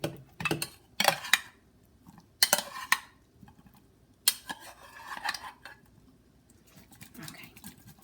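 Brussels sprouts tossed around in a dish, giving several separate bursts of clinking and scraping against the dish with short quiet gaps between them, close and moderately loud.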